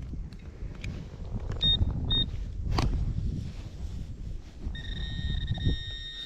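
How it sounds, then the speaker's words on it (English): A metal detector sweeping a dry, drought-hit field gives a short double-tap of high tones, then a longer sustained beep, over wind and handling noise. "Well, that one's double tapping real loud."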